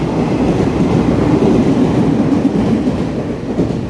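An EMU719 and EMU720 electric multiple-unit commuter train on a Taiwan railway mountain line roars steadily past at close range, a dense continuous rumble with rolling wheel noise and no voices.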